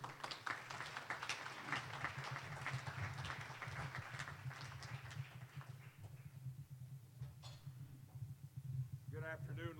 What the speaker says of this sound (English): please, a big round of applause for Robert Murray